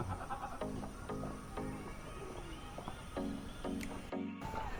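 Goats bleat repeatedly from a pen beside a trekking path through a village settlement near Cisadon, several short calls at moderate distance over steady outdoor ambience, with no talking.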